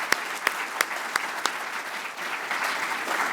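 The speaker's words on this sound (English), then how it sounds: "I think we best deserve another round of applause." A lecture audience applauds after a fireside chat, a few sharp, close claps punctuating the opening second or so before a fuller, steady wash of clapping from the room takes over.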